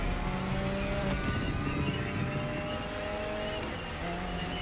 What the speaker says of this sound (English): Why do I hear an electric vehicle behind me?